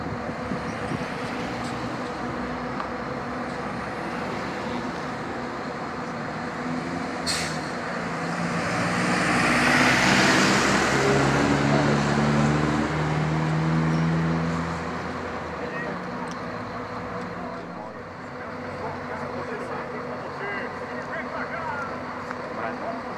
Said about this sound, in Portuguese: Agora vamos seguir viagem e vamos gravar o carro aqui em movimento agora.